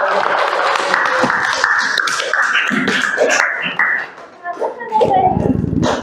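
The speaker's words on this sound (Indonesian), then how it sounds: "Beri tepuk tangan dong." Classroom audience gives applause after a group presentation; a few seconds of dense clapping mix with voices and chatter before fading into talk.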